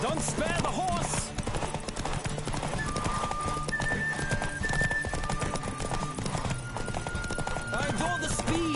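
A horse gallops in The Witcher 3 video game, rapid rhythmic hoofbeats close up with a whinny, under in-game character speech.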